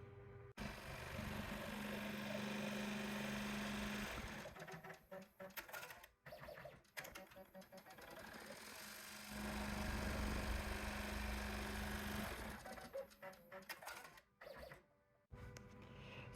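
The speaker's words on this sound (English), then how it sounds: "the machine is gonna design or stitch out the outline of the design." A home embroidery machine stitches out a design outline on fabric in a hoop for a Christmas money pouch, giving a steady mechanical whirring hum with short pauses and restarts.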